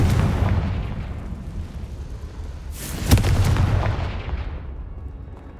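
A heavy explosion from the Confringo blasting spell in the Hogwarts Legacy video game, a rumbling boom with a sharp burst in the middle that swells and slowly fades over dense game ambience.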